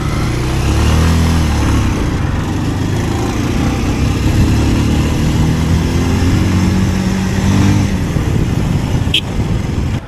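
A motorcycle rides along an open road into a strong headwind, giving a loud, steady roar of wind buffeting over the engine drone that holds unbroken from start to finish with no talk.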